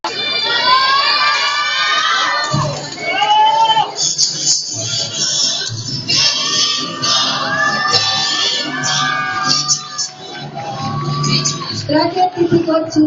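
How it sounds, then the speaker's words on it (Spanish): Classmates at a school event showing Mexican traditional costumes made from recycled materials cheer and shout loudly, children's voices whooping and yelling in a lively burst with some talk mixed in. "Un aplauso para nuestra compañera Lupita"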